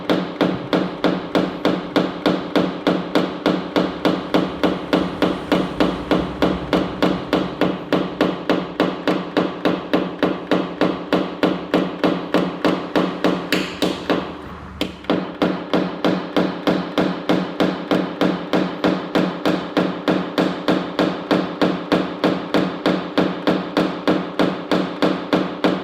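A small dent-repair pin tapped steadily against a car body panel with a paintless dent repair hammer gives a fast, even series of light metallic taps, close and continuous, with one brief pause midway.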